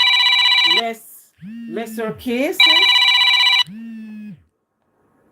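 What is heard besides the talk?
telephone ringing during a call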